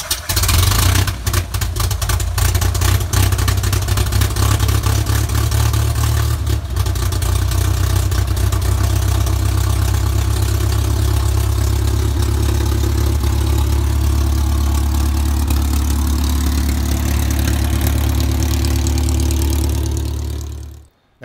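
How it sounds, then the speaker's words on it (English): Pitts S-1E aerobatic biplane engine running steadily while taxiing, a loud, continuous low drone with a few brief surges, close by and alone for about twenty seconds before cutting off abruptly at the end. "So we did start the engine and taxi the airplane around."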